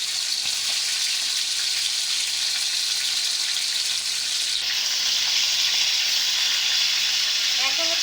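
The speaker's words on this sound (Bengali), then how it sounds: "ফ্রাই প্যানে কিন্তু একটাই সুবিধা, সবগুলো মাছ একসাথে ভাজা যায়।" Rohu fish pieces frying together in oil in a frying pan, giving a steady, dense sizzle that holds for the whole stretch and brightens slightly partway through, close and unbroken, with no talking.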